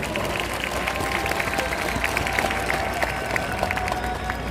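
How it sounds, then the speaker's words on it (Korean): At a large outdoor Korean church union worship gathering in Seoul Plaza, a crowd claps to welcome families onto the stage, a broad distant wash of applause with scattered sharper claps and faint crowd murmur. "큰 박수로 맞아주시기 바랍니다"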